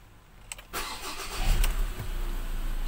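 A 2020 Ford Everest's engine cranks and catches, then settles into a steady, close idle after a brief rise in revs.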